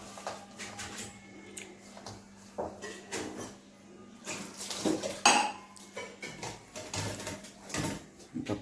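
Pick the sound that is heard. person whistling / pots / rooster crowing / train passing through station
pots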